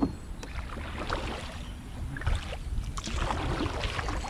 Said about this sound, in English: I'm gonna paddle backwards